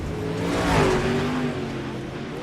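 Dirt late model race cars roar past on the final lap at a speedway, engines swelling to a loud close peak and fading into a sustained drone.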